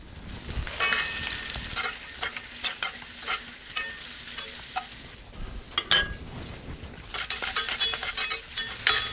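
Jumbo lump crab sizzles and spits in browning butter on a Monument Grills Mesa 400 gas grill, a steady crackling fry broken by sharp pops and a few stirring clinks, close and moderately loud.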